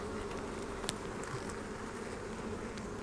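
Honeybees buzzing inside a hive during an inspection, a dense, steady close drone with occasional louder individual bees passing near; no talking.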